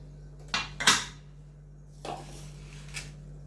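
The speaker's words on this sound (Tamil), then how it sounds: "இதை மூடி போட்டு வைக்கிறேன்." A lid set onto a pot of broken wheat payasam on a kitchen stove: two quick metallic clinks close together, then softer scrapes and a faint final tap over a steady low hum.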